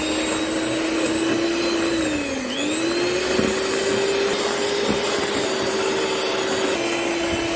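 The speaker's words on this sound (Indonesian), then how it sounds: "Mixer lagi dengan kecepatan tinggi sampai pewarnanya putih pucat mengembang dan kental berjejak ya." An electric mixer beats cake batter for a steamed black sticky rice sponge at high speed, a loud, steady motor whine close up that dips briefly in pitch as the beaters work through the thickening mixture.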